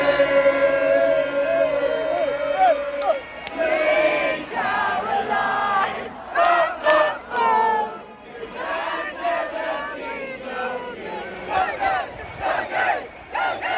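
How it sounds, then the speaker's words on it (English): A large concert crowd at an Ed Sheeran tour show sings along loudly to music played by security staff, a massed chorus of voices rising and dipping in phrases, with breaks where the singing thins out. "the security team decided to play music for the crowd to sing along to"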